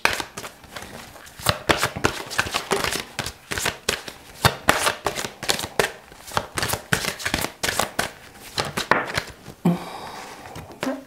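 An oracle deck being shuffled by hand during a tarot-style reading, with rapid irregular riffling and flicking bursts close up and a short tap near the end.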